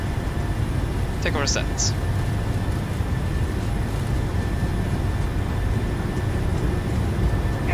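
Airliner jet engines spooling up toward takeoff thrust in an MSFS2020 PMDG simulation, a steady broad roar that holds throughout, with a brief voice speaking over it.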